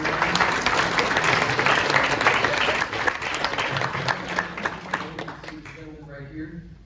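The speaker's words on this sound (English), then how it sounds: "Give her a round of applause." Audience applause after a speaker's first engineering talk, dense steady clapping filling the room for several seconds, a voice speaking over it, then thinning to a few scattered claps at the end.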